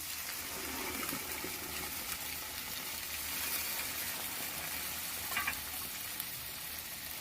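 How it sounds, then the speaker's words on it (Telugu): Water rinsed from a mixer jar of masala is poured into a pan of simmering mushroom gravy, giving a faint, continuous splashing hiss and soft sizzle throughout. "దాంట్లోకే కొద్దిగా మనం వాటర్ వేసుకొని ఆ వాటర్నే దీనికి యాడ్ చేస్తుంటున్నాం"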